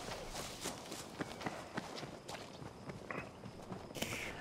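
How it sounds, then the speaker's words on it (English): Quiet, rapid footsteps patter steadily in Battlefield 5 multiplayer on the Marita conquest map, soft and somewhat distant amid faint background ambience. "I hear footsteps."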